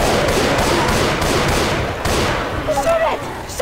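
Rapid gunfire from the zombie shooter Left 4 Dead 2, a dense barrage of shots that runs almost nonstop and loud throughout, mixed with game noise and excited players talking over it.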